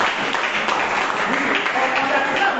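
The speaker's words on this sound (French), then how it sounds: "Est-ce qu'on peut applaudir pour le Seigneur?" A church congregation at a French-language service applauding for the Lord, dense continuous clapping from many people filling the room, steady and fairly loud, with voices mixed in underneath.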